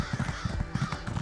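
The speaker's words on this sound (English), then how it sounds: "Crows." Crows cawing in The Elder Scrolls Online, a rapid run of harsh repeated calls over about a second, fairly close and steady, with no talking.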